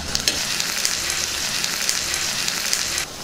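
Green chillies, onions and curry leaves sizzle steadily in hot oil in a pan, a dense, even crackling hiss with occasional sharper pops, close and continuous with no talk.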